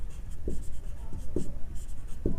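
A pen writes out a sixth-grade maths solution on paper, soft scratchy strokes with a few sharper taps in an irregular rhythm, close and fairly clear.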